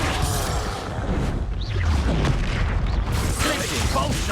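Confringo spell blasts go off during combat in the video game Hogwarts Legacy, heavy booms and crashing bursts in a dense, busy mix of fight noise that stays loud throughout, with a voice briefly audible.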